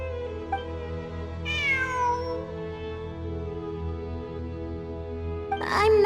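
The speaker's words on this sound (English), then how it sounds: "I'm not hearing things. It really is a cat." A cat meows inside the video game Genshin Impact, a rising and falling cry over steady game music and ambience, with a second shorter meow near the end.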